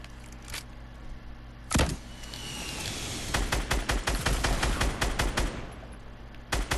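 Gunfire rings out in a shooting video game: a few isolated shots, then a rapid burst of repeated shots in the middle, and one more near the end.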